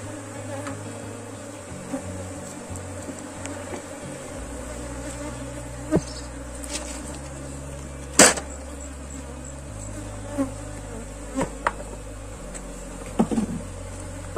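Honeybee colony buzzing steadily during a hive split with box inversion, a continuous insect drone with a few sharp knocks and handling clicks on top.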